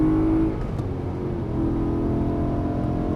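A BMW M3 E92 V8 on a race circuit, engine droning steadily and loud as it pulls through a gear, with a brief dip in intensity before building again, no talk over it.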